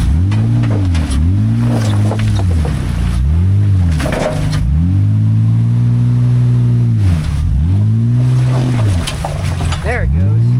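V6 all-wheel-drive vehicle engine surging repeatedly, with rising and falling revs in a rhythmic pattern like a boat or truck pulling away, loud and close, with people talking over it.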